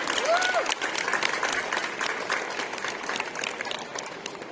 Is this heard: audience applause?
yes